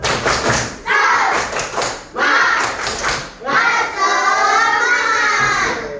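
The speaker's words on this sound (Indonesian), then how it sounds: "Tepuk semangat dulu." A class of schoolchildren does a rhythmic spirit clap: bursts of sharp, closely spaced claps in repeated patterns, followed by young voices chanting together, loud and near.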